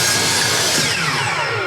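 Power saw finishing a cut through a wooden board, a loud continuous whining buzz that carries steadily for under two seconds, close and alone without talk.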